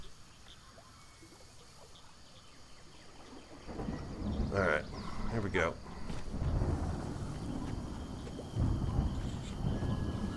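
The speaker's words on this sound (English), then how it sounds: "Man, it's gonna storm." Thunder rumbling from an approaching storm in a video game, low rolling booms swelling midway and again near the end under faint rain-like hiss, with someone speaking briefly over it.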